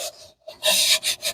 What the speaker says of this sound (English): clean all this up with sandpaper